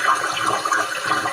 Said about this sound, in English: You just literally made me bring back the toilet flush, Jay.